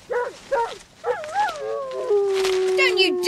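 A dog in a dramatised audiobook yelps and whimpers after being kicked, giving a run of close, rising and falling cries that end in a long, drawn-out whine.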